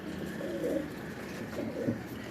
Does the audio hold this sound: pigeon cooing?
yes